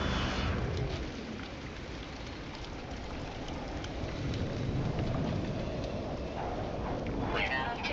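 A thunderstorm with steady rain pours throughout, a dense broadband hiss with low rumbling beneath, heard close and fairly loud.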